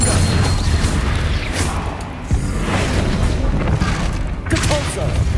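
Confringo fire spells blasting in the Hogwarts Legacy video game during a spider fight, dense booming impacts and crackling bursts layered over loud game sounds and music.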